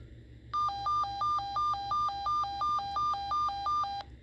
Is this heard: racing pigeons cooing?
no